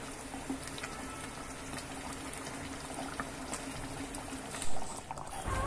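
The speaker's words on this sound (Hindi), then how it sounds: "पानी मिला के इसको खौला देते हैं।" Water stirred into mutton gravy comes to a boil in a cooking pot, giving a steady, close bubbling and simmering hiss throughout, with a brief louder surge near the end and no voices.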